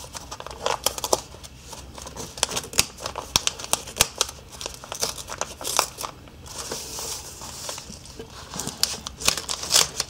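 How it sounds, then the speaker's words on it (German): Scissors snip and tear through the wrapping of a knitting-themed advent calendar package, a close run of crisp cuts and crinkling paper with no talking. "Da werden wir zur Schere greifen."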